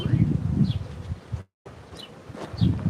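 Honeybees swarm on tree limbs in Tombstone, Arizona, a close buzzing hum of many bees rising and falling, with a voice briefly talking over it and a short gap of silence midway.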